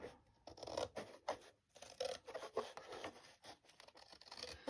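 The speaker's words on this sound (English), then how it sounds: "So I'm going to cut this little piece off here." Scissors snip and rasp through the thin cardboard of a Kleenex box, a run of short, close crunching cuts with brief pauses between them, fairly quiet with no talking.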